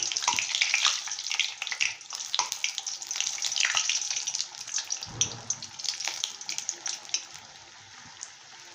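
Potato and chili bhaji frying in hot oil, a steady close crackling sizzle with bursts of popping that runs throughout without talk.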